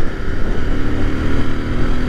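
A Royal Enfield Interceptor 650 motorcycle pulls hard under throttle on a winding country lane, a steady close engine drone mixed with strong wind rush throughout.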